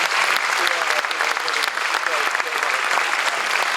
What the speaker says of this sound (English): A big round of applause for all these fine gentlemen on stage again